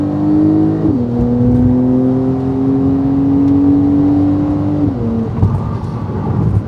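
A Porsche 911 Carrera 4S fitted with an aftermarket exhaust pulls away loudly and close by, its engine note climbing steadily, then dropping sharply at two gear changes about four seconds apart, with no speech.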